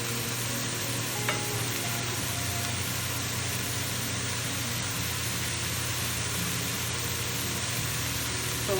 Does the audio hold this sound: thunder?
no